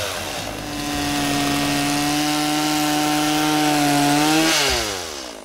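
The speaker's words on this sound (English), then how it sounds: "Here's me and my chainsaw putting that autofocus through the ringer." A chainsaw cuts through wood outdoors in Arizona, its loud steady engine drone held at high revs for several seconds before pitching down as it finishes the cut, with no talking.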